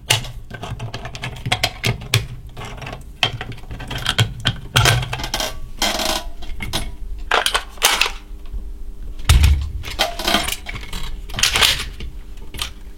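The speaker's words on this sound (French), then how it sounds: "Le rechargement." A run of sharp metallic clicks and clacks, irregular and close, like a rifle action being worked and rounds handled on a Taurus T4 AR-15 in .223 Remington, with no talking.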